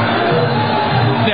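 Dense crowd noise from a Muay Thai fight audience, a steady roar of cheering and shouting with no break, loud and close throughout.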